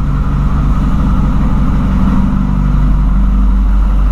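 A carbureted VW Voyage with an AP engine idles close by, producing a loud, steady low rumble that stays constant throughout.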